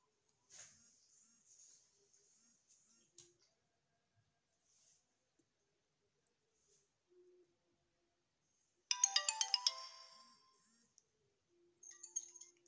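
A telephone rings with a short, loud electronic ringtone burst lasting about a second, breaking an otherwise quiet room with a few faint clicks and rustles before and after.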